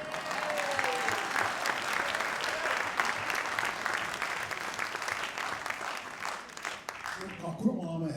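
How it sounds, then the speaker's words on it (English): Sustained applause from a theater audience at a live show fills the whole stretch, dense and steady, with a few voices and a brief musical note near the end. "Would you give him a big hand, please?"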